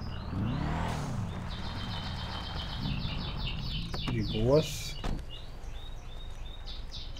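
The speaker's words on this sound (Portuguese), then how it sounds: "se tiver barulho de passarinho de fundo aí" Bird chirps and tweets sound in the background of a GTA 5 roleplay session, with repeated short calls over a low engine hum while someone speaks briefly.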